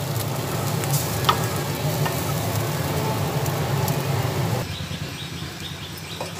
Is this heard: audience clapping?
no